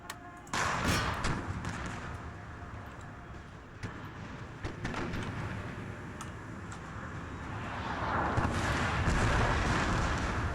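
Artillery cannons firing in Empire: Total War, several heavy booming thuds spread through a dense battle soundscape that swells louder toward the end.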